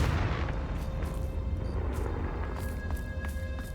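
A fire-blasting spell explodes in a Hogwarts Legacy game, a loud boom at the start followed by a rumbling, crackling tail with faint sparkly ringing effects.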